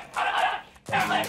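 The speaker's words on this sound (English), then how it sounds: "he's got a good bark, hasn't he?" A small, muzzled, aggressive dog barks twice close by, each a sharp, loud bark with a short gap between them.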